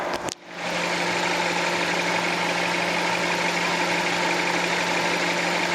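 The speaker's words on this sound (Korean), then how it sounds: "엔진 소리 한번 들어볼게요" An LPG Chevrolet Orlando idles steadily with its hood open after a brief click, a smooth, even engine hum with a low tonal drone, recorded close up and without talk.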